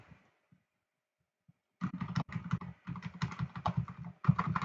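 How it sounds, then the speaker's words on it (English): Rapid presses on computer keyboard arrow keys nudge a drawing into place, a quick irregular run of close, crisp clicks following a near-silent pause. "And with the arrow keys, I'm just moving it into position"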